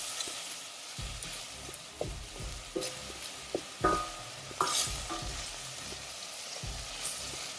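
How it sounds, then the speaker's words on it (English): Food sauteed in a saucepan on a flame for Caribbean coucou, a steady soft sizzle broken by regular scraping stirs about once a second, close and unaccompanied by talk. "I will just saute this for a minute."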